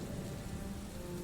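Steady, dense rain drums on a roof, a continuous close wash of patter with no gaps, loud and even throughout with no voices.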